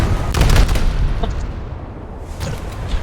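Naval gunfire and shipboard explosions in the World of Warships-style game, with a 5-inch ammunition room blowing the forward half of a ship apart: a dense burst of booming blasts up front, then rumbling, scattered detonations fading behind.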